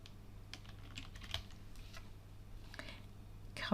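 Clicky computer keyboard typing in scattered bursts with short pauses, keys tapped for copy and paste shortcuts while building a rubric in Google Classroom, close and fairly quiet against a steady low hum.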